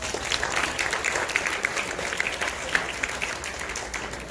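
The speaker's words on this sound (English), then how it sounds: "give him a round of applause" Audience applause from a crowd at an Elks anti-vaping presentation, steady dense clapping that fills the whole stretch without pause, fairly loud and even, with no voices over it.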